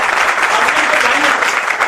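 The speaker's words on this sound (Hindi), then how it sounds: "एक बार जोरदार तालियां" Loud, dense applause from an audience at a business seminar, a continuous wash of clapping up close.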